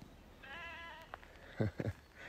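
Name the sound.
ewes bleating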